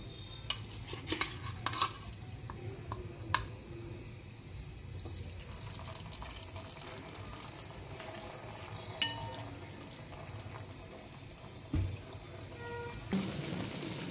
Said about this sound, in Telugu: ఇప్పుడు మనం డీప్ ఫ్రై చేస్తాం